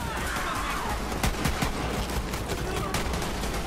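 Gunfire in the video game Borderlands 3, a quick burst of several sharp shots over a dense, noisy game soundscape.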